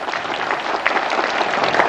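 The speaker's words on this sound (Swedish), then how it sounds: "vi ger våra pristagare en riktigt kraftig applåd" Steady, energetic applause from an audience honoring prize winners at a Lions Club carnival in Bromölla, a dense clatter of many hands filling the whole stretch with no voices on top.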